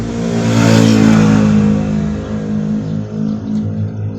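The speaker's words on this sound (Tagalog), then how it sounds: "tuwing magbibideo ko is maingay kasi tabi kami ng kalsada" Cars passing on a road right beside the house, a steady loud engine and tire rumble that swells and fades as vehicles go by, with no talking.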